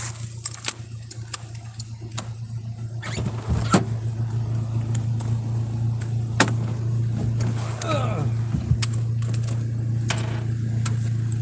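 A fairly new Nissan car's engine idles steadily after a jump start in a park, a low constant hum with scattered clicks and thumps over it, and people talk nearby.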